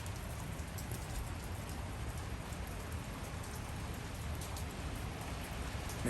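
Heavy rain pours steadily on a wet day in Los Angeles, a dense, even hiss of drops drumming on surfaces that stays loud and constant throughout, with no voices.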